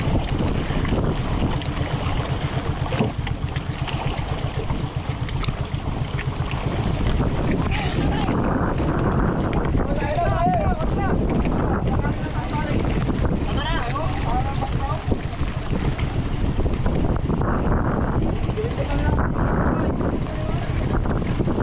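Strong wind buffets the microphone continuously at sea, with rushing gusts, a boat engine churning underneath, and voices talking intermittently.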